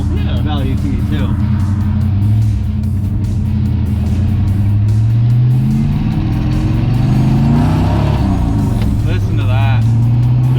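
Engine note of a 1970 Dodge Charger 500, a loud, close, throaty rumble that rises and falls through several revs, with a person talking over it.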